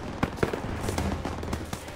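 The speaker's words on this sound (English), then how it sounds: "Gunfire! We must be near our guys." Rapid bursts of gunfire crackle through a dense, noisy battle soundscape in Call of Duty: WWII, with sharp shots layered over rumbling background.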